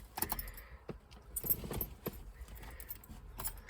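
Car keys jangle inside a 1984 Subaru Brat that sat unused for ten years, a few bright metallic rattles and clinks close by, bunched into short bursts across a few seconds with quiet gaps between them.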